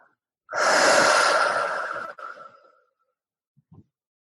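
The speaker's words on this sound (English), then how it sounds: "Take deep breaths." Deep breathing during a guided meditation: one long, close breath swells in and slowly eases out, followed by quiet and a couple of faint soft clicks, with no talking.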